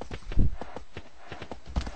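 Horse hooves clopping in the video game Shadow of the Colossus, a steady rhythmic trot of soft thuds at moderate level, alone without talk.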